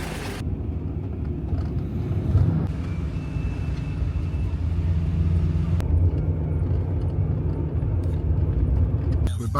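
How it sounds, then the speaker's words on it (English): A bus running from Kotor to Podgorica in Montenegro gives off a steady low engine drone and road rumble, with a few brief knocks and shifts in pitch. The sound is close and continuous. "This is the bus."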